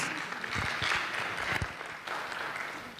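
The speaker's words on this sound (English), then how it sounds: "give them a hand clap" Audience applause at the African Readers Conference 2022, a faint, steady patter of many hands clapping in a large hall for a few seconds, with no voices over it.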